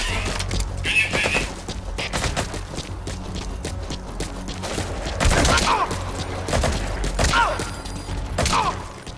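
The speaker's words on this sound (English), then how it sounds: "The best way to take out a sniper outrange is just to fire your assault rifle at him" Assault rifle fire in Metal Gear Solid V aimed at a distant sniper: rapid, loud bursts of gunshots with mechanical clatter, repeated across the clip amid other game noise.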